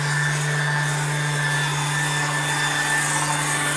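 A power sander works steadily across a boat hull during a haul-out for antifouling, giving a continuous, loud, even abrasive whir with a constant motor hum throughout and no pauses.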